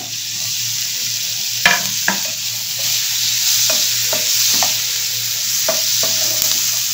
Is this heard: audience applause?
no